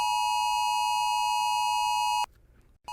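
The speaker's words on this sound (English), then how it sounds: "both of their cell phones go off at the same time with what sounds like an Amber Alert" Two cell phones sound an emergency alert like an Amber Alert together, a loud steady electronic beep tone held for a couple of seconds, then a brief pause before it resumes.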